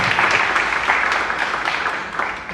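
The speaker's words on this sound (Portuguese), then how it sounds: "Uma salva de palmas ao Senhor pela vida dos nossos irmãos." A church congregation breaks into applause, a dense wash of many hands clapping close and loud that tapers slightly toward the end.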